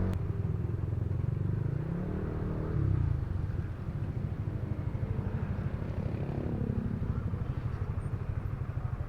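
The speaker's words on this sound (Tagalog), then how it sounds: "Grabe ang three wheel na motor." A three-wheeled motorcycle passes on a city street, its engine rumbling loud and close and swelling as it goes by over a continuous traffic drone, with no talking.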